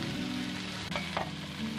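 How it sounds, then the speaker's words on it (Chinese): Eel pan-fries in a little oil over medium heat, giving a soft, continuous sizzle with a couple of faint clinks. No one speaks. "中火煎，切记就是油不要倒太多哈。"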